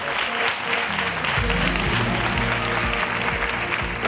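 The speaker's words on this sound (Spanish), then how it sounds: "Y un aplauso para él." A studio audience on a televised talk show applauds the departing guest, a full, sustained burst of clapping that stays loud throughout, with faint music or tones underneath.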